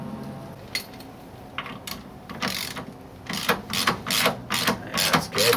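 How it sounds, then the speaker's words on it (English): An Allen wrench turning against an adjustable spring plate while the hole is aligned during lowering of an air-cooled VW bus, giving irregular metallic clicks and ratcheting scrapes that grow more frequent toward the end, close by. "I'm just using the Allen wrench to align the hole."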